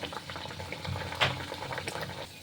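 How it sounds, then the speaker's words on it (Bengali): Broccoli pakoras deep-frying in hot oil, a close, continuous bubbling sizzle at moderate volume with a brief louder spatter midway. "এবার এগুলো তেলের মধ্যে দিয়ে ভাজবো।"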